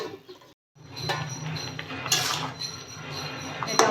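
A metal lid set onto a cooking pot of potatoes to boil, a close metallic clink and rattle after a brief silence, followed by a steady low kitchen rumble with light clatter.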